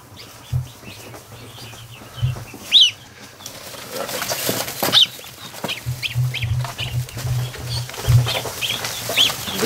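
Bursts of wing flapping from geese come in brief flurries, mixed with scattered bird calls and a low steady hum underneath.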